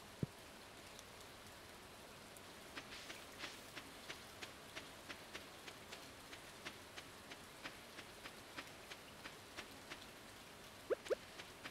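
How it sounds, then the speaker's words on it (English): Light rain in Stardew Valley patters steadily with evenly spaced drip ticks, quiet and distant, ending with a couple of sharper clicks. "Rain again."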